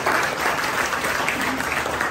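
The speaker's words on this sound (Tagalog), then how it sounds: "Palapakan natin ang Panginoon." A church congregation at a Sunday service claps steadily throughout, a dense, even roar of applause with no gaps or speech.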